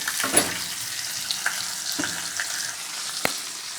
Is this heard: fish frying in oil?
yes